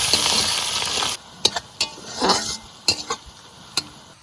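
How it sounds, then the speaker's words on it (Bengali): Sliced onions frying in a pan with bay leaf and whole spices: a hiss of sizzling for about a second, then quieter frying broken by sharp scrapes and clinks of a spoon against the pan. "পেঁয়াজ একটু ভেজে নিয়েছি"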